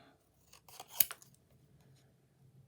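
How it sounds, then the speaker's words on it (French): Scissors cut through colored paper for a butterfly craft, a few quiet close snips with one sharper crisp cut, then near silence. "Hop, je vais découper."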